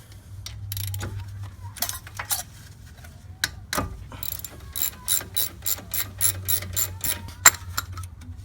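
Ratchet with a 12 mm socket loosening the brake caliper bolts on a 2003 Ford Taurus, giving bursts of rapid close clicking from the pawl, with scattered metallic taps between strokes.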